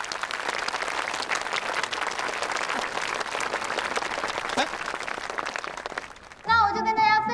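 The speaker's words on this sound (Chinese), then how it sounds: "大家鼓掌欢迎" A classroom audience claps to welcome a student called up to share exam-preparation tips; dense, even applause runs for about six seconds, then stops abruptly as music takes over.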